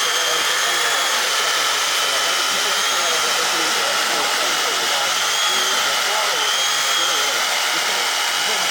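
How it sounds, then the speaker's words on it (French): A power screwdriver drives screws during straw-bale wall construction, giving a continuous high motor whine that holds steady for several seconds without pause. "Et ben maintenant, on visse."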